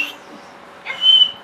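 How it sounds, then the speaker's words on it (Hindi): A person whistling indoors, a brief clear high note rising out of a quiet room after a short breathy start, close and fairly loud. "कौन सीटी बजा लेता है?"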